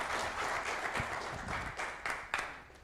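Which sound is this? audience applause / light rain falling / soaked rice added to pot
audience applause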